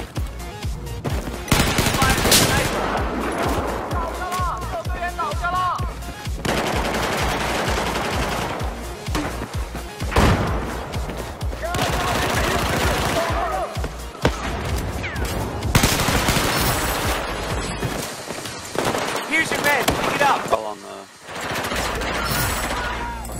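Rapid bursts of video game gunfire from a military shooter crackle almost continuously, with automatic fire and scattered single shots over dense battle noise and occasional voices.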